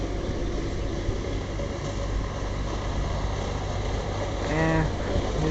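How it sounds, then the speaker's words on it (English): A steady, droning small lawn tractor engine runs continuously close by while mowing grass, its low rumble unbroken, with a brief higher whine near the end. "I don't know if you can see his little tractor here"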